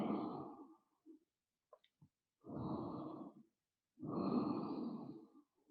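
Slow, audible breaths drawn in and out during a gentle yoga session, three long airy exhalations separated by quiet pauses and a few soft clicks, close and fairly faint with no talking.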